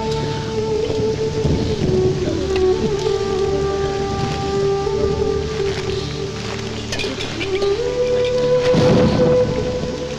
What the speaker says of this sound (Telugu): ఇప్పుడు అర్ధంతరగా ఈ వర్షం పట్టుకుంది